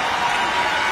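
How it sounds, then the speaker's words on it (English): Roaring indoor arena crowd at a University of Michigan women's 4x4 relay track meet, a dense continuous wall of cheering and clapping, loud and unbroken. "Her teammates there on the backstretch cheering"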